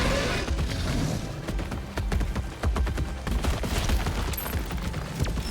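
A rapid, loud volley of gunfire from a weapon firing a non-lethal payload in Helldivers 2, dense overlapping shots rolling continuously with a few heavier booms.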